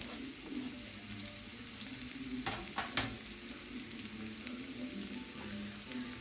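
Chopped shallots fry in oil for a beetroot and carrot curry, a dense continuous sizzle with a couple of brief scraping stirs, heard close and alone.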